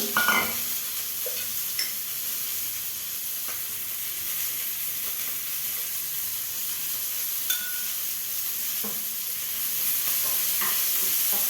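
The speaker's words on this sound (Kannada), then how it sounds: "ಈಗ ಹಸಿಮೆಣಸಿನಕಾಯಿ ಮತ್ತು ಈರುಳ್ಳಿನ ಹಾಕ್ತಾ ಇದ್ದೀನಿ." Green chillies and onion frying in a pan with mustard seeds and cumin, a steady close sizzle with occasional light stirring scrapes, no talking.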